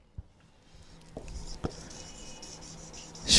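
A pen scratches across paper or a board as an equation is written by hand, soft and close, with a few sharper taps and short strokes and a louder rub at the very end.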